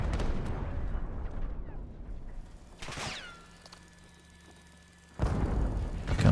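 A grenade goes off in Call of Duty competitive play, a sharp burst near the three-second mark followed by a quieter stretch, then another loud blast of gunfire or explosion rolls in near the end.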